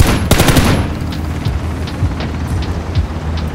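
Video-game gunfire opens with a rapid loud burst of automatic shots, then trails into scattered fainter shots and crackles at a distance.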